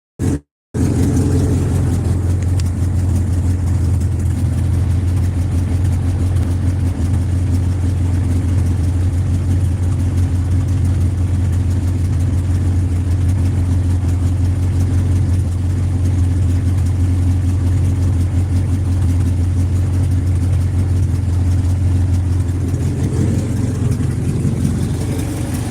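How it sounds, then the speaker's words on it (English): A cold turbo B20 engine in a Honda Civic EG idles steadily and close up after a brief start, a continuous low rumble with a slight rise near the end and no talking. "The car just started, it's cold, hasn't ran a bit."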